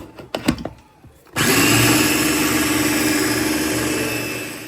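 Electric blender whirs steadily as it whips egg-free garlic cream made with vegetable oil, starting abruptly after a few clattering knocks and holding a loud, continuous motor drone that eases slightly toward the end.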